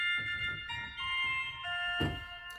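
A 1-foot stop of the Bovenkerk Kampen pipe organ played alone gives thin, piercing high whistling tones held over faint low mechanical thuds, with a brief noisy burst near the end.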